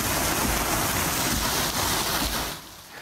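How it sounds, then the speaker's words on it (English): Heavy flooding rain pounds down in North Texas around McKinney in the Dallas–Fort Worth area, a dense, loud, continuous roar that drops off sharply near the end. "much of the northern half of DFW has been getting hammered with flooding rain all night long"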